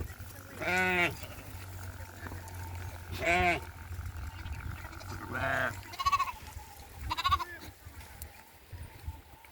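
Sheep drinking at a river bleat four or five times, with loud, wavering calls spaced a couple of seconds apart nearby, over a quiet outdoor background.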